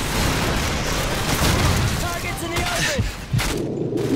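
Dense, continuous gunfire and booming blasts from the shooter game Call of Duty 4 Modern Warfare, loud throughout and with a brief dip near the end, with faint voices mixed in.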